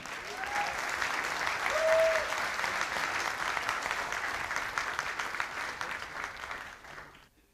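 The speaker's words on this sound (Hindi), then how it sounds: "जोरदार तालियां हो जाएं।" Hall audience at a business talk gives strong applause, a dense steady wash of clapping that peaks early and fades out near the end, with no talking over it.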